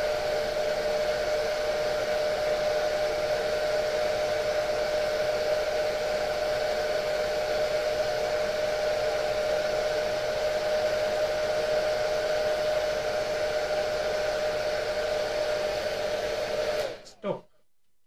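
A hair dryer's steady, loud blowing roar with a constant whine runs continuously, then cuts off abruptly near the end.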